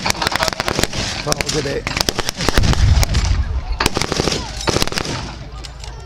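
Repeated sharp blasts of British artillery fire boom through a Yorkshire wartime reenactment, loud and irregular, with a heavy low rumble near the middle and people talking over the bangs.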